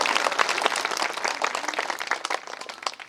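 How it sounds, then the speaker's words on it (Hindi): An audience at a Hindi poetry gathering (kavi sammelan) bursts into loud, dense applause, many hands clapping together steadily and close at hand for the whole stretch with no voices over it. "आप सभी लोग एक बार उसके लिए जोरदार तालियां बजाएं।"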